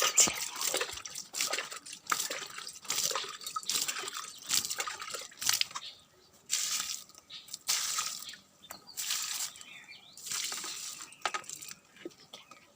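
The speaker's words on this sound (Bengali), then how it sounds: "জল নিয়ে চলে এসেছি জলটা একটু দিয়ে দিই" Water being poured from a container onto a newly planted plant in a home garden, a sequence of splashing, trickling bursts with short pauses between them, close and fairly faint, with no talk over it.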